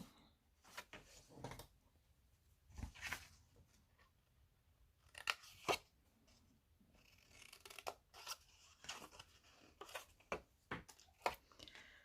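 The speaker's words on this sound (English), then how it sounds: "now I'm going to cut this square out and this square out" Scissors snipping through paper card to cut out squares for a handmade ice cream card and box, close and fairly quiet, with a series of irregular crisp snips and brief pauses between cuts.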